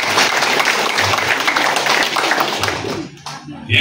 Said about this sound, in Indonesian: tepuk tangan dulu untuk Pak Simon